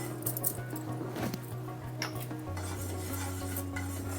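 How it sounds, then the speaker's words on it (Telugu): Sesame seeds stirred and roasting in a hot pan, a quiet, steady scraping and rustling with a faint sizzle and occasional light clinks of the spoon against the pan, heard close and alone. "ఈ నువ్వులు వేయించుకుందాం."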